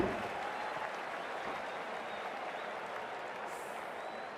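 Stadium crowd in the Cricket 24 video game roaring and applauding after a big six, a steady, dense wash of cheering that holds loud throughout with no speech.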